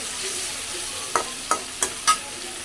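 Fish cooking with spices in a pan sizzles steadily, with four quick scraping stirs of a utensil spaced evenly over the sound.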